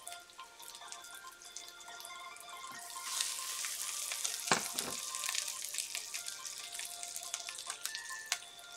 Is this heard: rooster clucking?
no